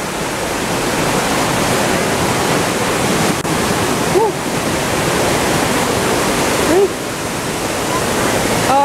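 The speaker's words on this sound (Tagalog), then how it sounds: "So yan na ang Twin Falls." Twin Falls at Itbog Falls roars as a steady, loud broadband rush of falling water that fills the whole clip, with a few brief bird chirps rising above it.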